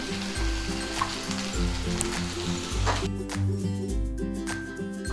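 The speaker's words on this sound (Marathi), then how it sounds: "भाजी आता व्यवस्थित फ्राय झालेली आहे" Vegetables frying in a pan for Veg Kolhapuri, a steady close sizzle running throughout under light background music, with occasional stirring clinks and no talking.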